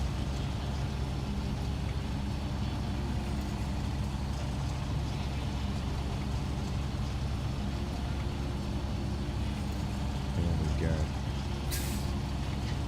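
A truck idles with a low, steady engine drone in the video game Snowrunner, and a short hiss of the handbrake being applied comes near the end, heard under talk.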